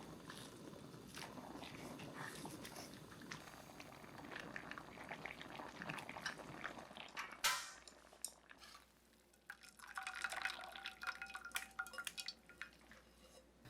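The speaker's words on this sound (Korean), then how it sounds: "불린 미역은 끓는 물에 넣어 30초 정도 데쳐줍니다." Water bubbles and simmers steadily in a pot of boiling water as soaked seaweed blanches, with occasional clinks of a utensil against metal and a brief louder splash midway.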